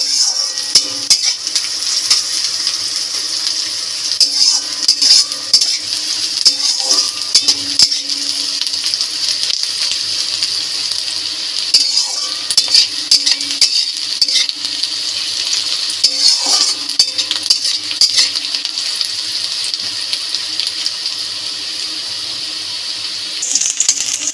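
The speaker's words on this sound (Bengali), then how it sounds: "পেঁয়াজটাকে একটু বাদামি করে ভেজে নেব" Onion and garlic fry until brown in a pan for a leafy greens dish. A loud, constant sizzle runs under repeated metallic scrapes and clinks of a spatula stirring against the pan. No talking.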